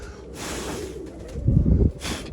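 A pigeon coos close by, a short throaty burst of low cooing with soft breathy rustling around it and no talk.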